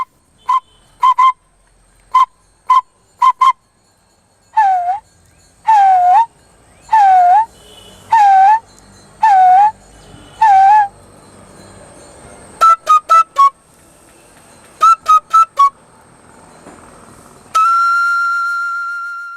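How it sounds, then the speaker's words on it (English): A sumoi, a bamboo flute of the Tripura tribes, plays a series of short, bright bird-like whistles, some single and some in quick clusters, with swooping notes, ending on a longer held tone. "Sumoi tunes according to dance or song sequence or solo. It sounds sweet in calls of different birds."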